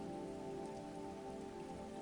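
Steady rain falling on a surface, an even, continuous hiss and patter with no talking, held at a constant moderate level throughout.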